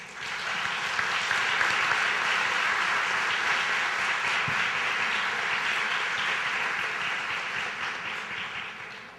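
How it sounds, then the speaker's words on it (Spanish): Warm applause fills an auditorium during a conference session in Panama, a broad, even roar of many hands clapping that holds steady for several seconds before slowly easing off. "me permito que este auditorio les dé un caluroso aplauso."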